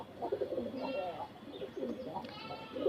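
Pigeons of various foreign breeds kept on a rooftop coo softly in repeated low, throaty phrases, several birds overlapping at close range, with a voice speaking nearby.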